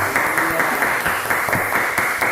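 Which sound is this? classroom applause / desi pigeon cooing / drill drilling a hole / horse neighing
classroom applause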